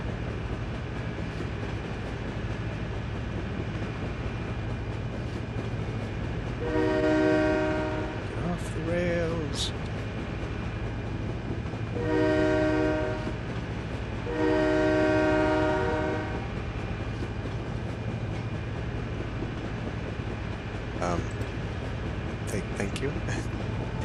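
A train rolls along the tracks in the SimCity 4 video game, with a continuous rumbling run and several loud horn blasts in two groups, the first short and the later ones longer and sustained.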